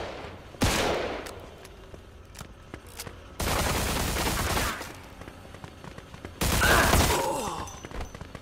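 Three separate bursts of automatic gunfire in the Mafia II video game, each loud and harsh for about a second, separated by quieter gaps.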